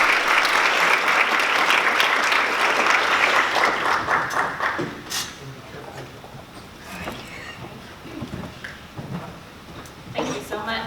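A luncheon audience at a diversity symposium claps to welcome a keynote speaker. The applause is loud at first, thins out after a few seconds and gives way to scattered claps and some room noise.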